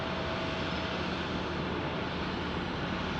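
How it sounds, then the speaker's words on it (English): A Pilatus PC-12 turboprop at Tucson airport gives off a steady, broad engine roar that holds at an even level throughout, with no talk over it. "Here's your Pilatus PC-12"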